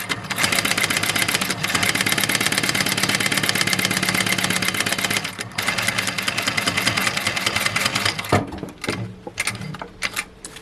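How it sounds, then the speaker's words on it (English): A heavy-duty walking-foot sewing machine stitches through thick upholstery fabric with a loud, continuous mechanical rattle and motor hum. It pauses briefly partway through, then runs again and ends in a few separate clunks. "So what you can see here is the foot is walking like this and pushing the fabric."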